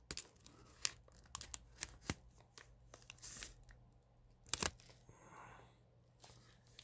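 Paper wrapping being torn and crinkled open on a small mystery gift, a quiet run of sharp rips and rustling bursts close by, with no talk.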